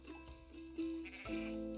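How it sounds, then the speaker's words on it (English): Sheep bleating in the farming video game Everdream Valley, two drawn-out bleats in quick succession, fairly close over a steady game background bed. "Sheep."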